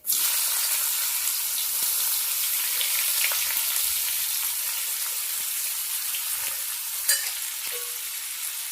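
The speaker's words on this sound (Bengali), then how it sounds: "এবার পেঁয়াজটাকে কালো জিরে ফোড়ন দেওয়ার পরে দিয়ে দিতে হবে আমিও দিয়ে দিচ্ছি দেখো" Thinly sliced onions go into hot oil tempered with nigella seeds. A loud, steady sizzle starts at once and is joined by light stirring scrapes and a brief clatter near the end, all close and without talking.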